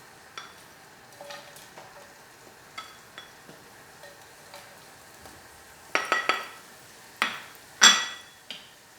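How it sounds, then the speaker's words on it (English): Ginger and green chilies stirred into melted butter on a tawa, with soft sizzling under sparse taps and scrapes of a spoon on the metal, growing into a few louder clatters near the end. "To this, we are going to add our ginger, and green chilies."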